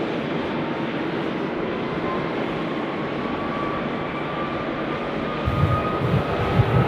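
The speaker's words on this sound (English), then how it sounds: "We've got our Philippine Airlines now is about to roll" A Philippine Airlines jet rolls for takeoff on runway 16 right at Sydney Airport, a loud, steady engine roar that swells toward the end, with deep low rumbles joining in.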